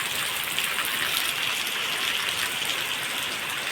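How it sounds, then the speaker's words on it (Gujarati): Steady rain falls at night with a dense, even hiss that stays loud and unbroken throughout, with no voices over it. "લાઈટ થાય વરસાદ જો કેવો આવે"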